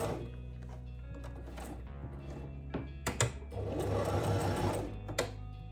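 A sewing machine topstitches a leather trench coat with a close mechanical whirr and some thunks and pauses.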